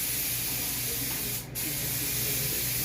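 A paint spray gun hisses steadily while coating a fiberglass cowl hood, a loud continuous spray that breaks off for a split second midway before resuming.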